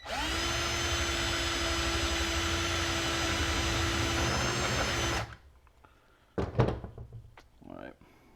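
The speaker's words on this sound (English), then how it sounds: "Next step is going to be drilling these out." A loud, steady whining drill runs for about five seconds and then stops, followed by a few sharp knocks and faint handling sounds, as aluminum valve cover baffles are drilled out.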